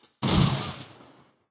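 A single heavy gunshot-like blast in the Shadowrun Returns tactical RPG hits with a sharp attack and a decaying boom that fades over about a second, loud and alone.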